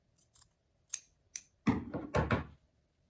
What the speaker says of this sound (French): J'enlève le surplus pour aligner les bords.